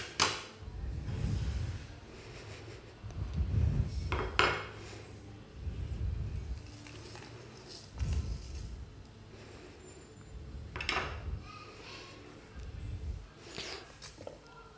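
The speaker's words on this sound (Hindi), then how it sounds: "अब हम अपना पतीला लेंगे और इसके अंदर सब इंग्रेडिएंट्स जो है हम शामिल कर देंगे" Beef, ginger, garlic, tomatoes and small onions are dropped one by one into a cooking pot for a quick Eid beef pulao, giving several separate metallic clanks and soft thuds spread across the stretch, fairly quiet, with faint talk around them.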